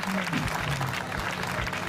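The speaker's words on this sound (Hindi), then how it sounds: "तालियां भाई, बहुत जोरदार" An audience at a Hindi comic poetry gathering breaks into hearty applause, a dense wash of claps with a voice or two sounding briefly under it.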